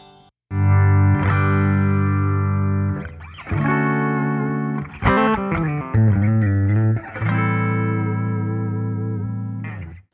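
A B.C. Rich Mockingbird electric guitar, heavily distorted, rings out in long sustained chords, each held for seconds with a thick, saturated tone, no talking.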